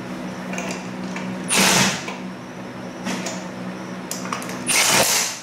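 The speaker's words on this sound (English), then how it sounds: "We're going to tighten up the wheels, and then we're going to torque them down." Tightening the wheel lug nuts on a Jeep with a Dana 30 axle: two short, loud bursts of a power tool spinning and hammering, separated by quieter shop background and fainter mechanical noises.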